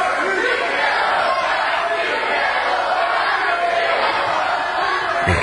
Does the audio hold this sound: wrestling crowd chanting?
yes